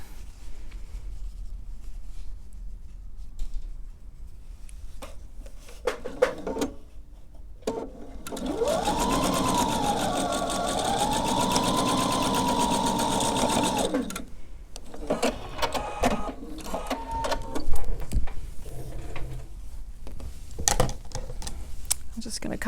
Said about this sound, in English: Let me sew these as well.